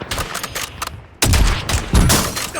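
Gunfire in a first-person shooter video game: a string of sharp, loud shots and bursts, a brief lull, then heavier close blasts in quick succession.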